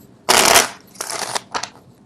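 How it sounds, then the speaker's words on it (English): Tarot cards riffle-shuffled at close range during a love reading: one long dense burst of flicking card edges, then two shorter rustling riffles, with no voice over them. "I don't know why people like to see the card shuffle live"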